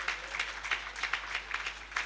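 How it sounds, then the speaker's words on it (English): Warm applause at a formal investiture ceremony for engineers, a few seconds of steady, moderately distant clapping from a seated audience, fairly quiet and without talk. "Please give a warm round of applause."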